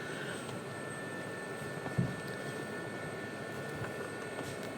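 A Gazelle helicopter engine in a Polychop Simulations flight game gives a steady, even turbine drone with a faint high whine and one brief dull thump partway through.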